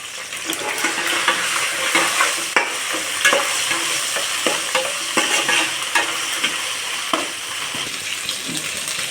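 Onions with ginger garlic paste and a little salt frying for chicken khurma, a loud, dense, continuous sizzle with frequent stirring scrapes and clinks, close up with no voices.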